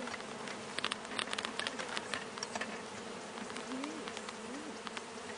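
Bees buzz around an open hive at an outdoor beekeeping field day, a faint, steady insect hum with a few louder passes drifting close, no talking.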